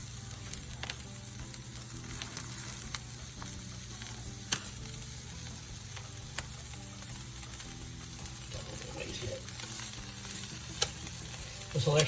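A Reuben sandwich sizzles butter side down on a griddle while being lightly pressed, a steady close crackle with small pops and faint scraping, continuous throughout.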